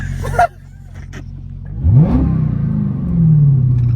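A supercharged Dodge Hellcat engine idles with a low rumble, then blips into a sharp rising rev midway and settles into a louder sustained growl, close by.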